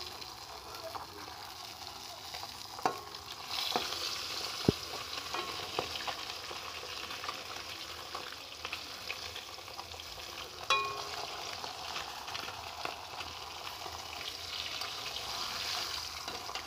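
Catla fish, part of a one-and-a-half-kilogram fish, sizzles steadily in hot oil in a wok, with a few sharp clinks of a spatula stirring and turning the pieces, close and continuous with no talk.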